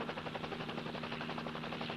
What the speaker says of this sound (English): Can't you hit that chopper? It's right over the roof.